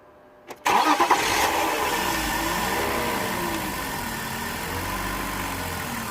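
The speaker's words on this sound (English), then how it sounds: "Let me turn off the engine and start again." A BMW 323Ci E46 with a poor running and stalling fault is restarted: a brief starter crank, then the engine catches with a rev flare and settles into a steady, slightly uneven idle, close and loud.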